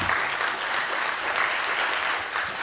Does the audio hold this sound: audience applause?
yes